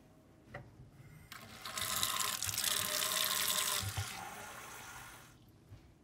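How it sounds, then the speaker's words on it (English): Half a cup of water pours from a measuring cup into a bowl for sweet potato knish dough, a close splashing stream that swells for about four seconds and then stops in a quiet kitchen. "grab your measuring cup and add 1/2 cup of water and 1/4 cup of neutral oil."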